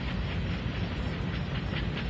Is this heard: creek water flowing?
no